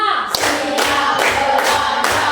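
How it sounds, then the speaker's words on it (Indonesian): Children in a classroom clap their hands together, a few loud rhythmic claps in a row, close and clear above a noisy background of voices. "tepuk tangan."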